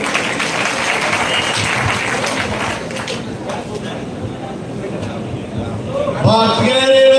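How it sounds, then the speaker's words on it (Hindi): An audience at an Indian railway workers' union gathering applauds to welcome a speaker on stage, dense sustained clapping that fills the space before a voice comes up over it at the end. "कृपया जोर से ताली बजा के इनका स्वागत करें।"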